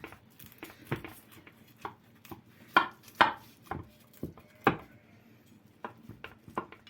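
A knife cuts through crisp baked börek pastry with a series of sharp, irregular chops and crunches against a board, close and fairly quiet, with no talking.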